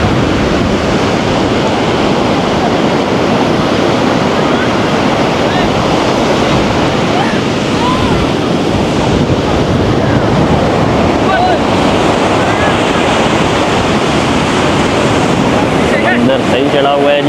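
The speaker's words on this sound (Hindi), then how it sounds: "समंदर सही चढ़ा हुआ है जी आज।" Rough sea surf at Hawks Bay beach in Karachi crashes and hisses continuously and loudly, mixed with heavy wind buffeting the microphone, with no clear pauses between waves.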